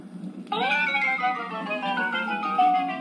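A 1960s Fisher-Price toy record player plays a record, a thin tonal melody with sustained singing-like notes starting after a brief pause and continuing steadily near the microphone.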